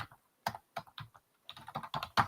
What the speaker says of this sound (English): and I'm typing so that people know what this link actually is.